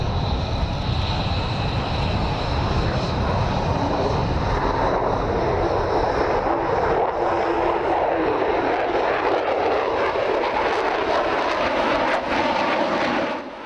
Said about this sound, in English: At rotation speed, the pilot slowly pulls back, and the F-35 glides gracefully into the Arizona sky.